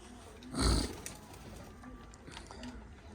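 Low, soft cooing from a pigeon repeats a few times nearby, following a brief loud rustling burst near the start.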